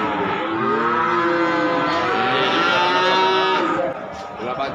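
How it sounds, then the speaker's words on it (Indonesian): Cattle at a livestock market in Pati, Central Java, moo loudly and close by, one long drawn-out low that swells and fades over several seconds, with faint background activity. "Tiga ekor sapi pekon dan juga ada"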